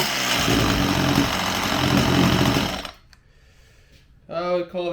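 A Stihl MS192tc chainsaw, running with its air box off and a fault that makes it bog down and refuse to rev, buzzes loudly and steadily for about three seconds, then cuts out, and a voice follows.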